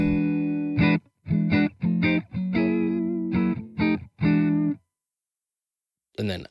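Electric guitar played through a budget effects pedal with studio compression, a run of sustained, distorted chords in separate bursts with short gaps, close and loud, ending in a pause and a brief final strum.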